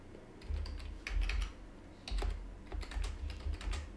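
Someone types on a computer keyboard while writing a code comment, fast irregular clicking in several short bursts, close and fairly soft, with no voices.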